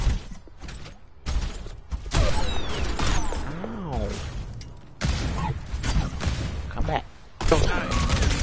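A sniper rifle shot rings out in the Overwatch video game amid a busy mix of gunfire, whooshes and mechanical effects, with a voice talking in the background.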